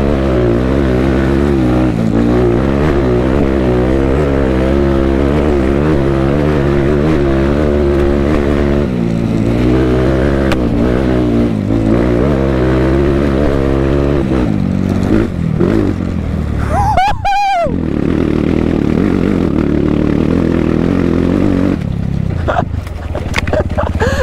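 A Mini Rider motorcycle engine drops through the gears, close and loud, its droning note rising and falling with each shift and ending in a brief whining rev.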